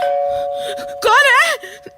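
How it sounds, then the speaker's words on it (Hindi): A two-tone electronic doorbell chime rings out clearly over a steady background hum, with a brief voice trailing after it. "और तभी डोरबेल बजी"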